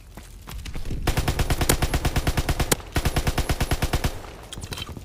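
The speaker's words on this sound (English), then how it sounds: "I'm scared, I hear gunfire. It sounds close." Rapid automatic gunfire in the video game Call of Duty: WWII, in loud, rhythmic bursts, two long volleys separated by a brief pause, close and punchy with a few scattered shots after.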